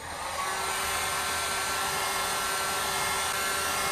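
A heat gun blows hot air onto a Kydex sheet for a phone holster, producing a steady, close, loud whooshing hum with a constant whine running underneath.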